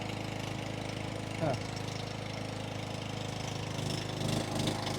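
A generator engine powering two machines at once drones steadily throughout, a constant low mechanical hum with a faint voice briefly underneath.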